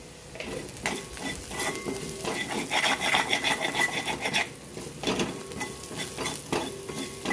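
Cumin, ajwain and fenugreek seeds frying in oil while being stirred, a soft crackling sizzle with rhythmic scraping strokes of a spoon against the pan, steady and close.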